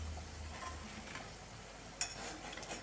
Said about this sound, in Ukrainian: І так смажимо усі наші бутерброди